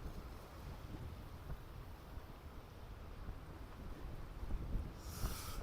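Strong wind blows across the River Mersey during boat fishing, a constant rough roar of wind battering the microphone, with water sloshing underneath and a harsher gust near the end.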